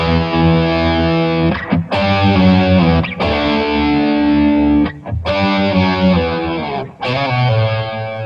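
Loud distorted electric guitar riff played as single unstacked lines rather than stacked power chords, with sustained chords and brief gaps between phrases, up close with no talking.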